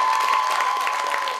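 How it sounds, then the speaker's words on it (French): A theatre audience at a Miss 2015 beauty pageant applauds the jury with steady, dense clapping and some cheering, sustained and fairly loud throughout, with no voices standing out. "Un tonnerre d'applaudissements pour notre super jury."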